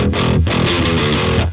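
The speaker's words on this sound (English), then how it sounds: "we're going to double track a guitar line, just a quick riff" A heavily distorted electric guitar riff plays loud and dense, with chugging low notes and a brief gap early on before the riff continues.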